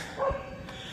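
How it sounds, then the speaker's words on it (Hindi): A single short dog bark from somewhere behind, heard outdoors during a road run, fairly faint and set against a steady background hum, with no talking. "वहाँ पीछे कुत्ते भौंक रहे"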